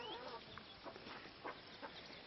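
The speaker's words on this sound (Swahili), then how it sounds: "Njoo tushike ile kuku tukule." Chicken clucking in a yard, a few faint, short clucks in steady background noise.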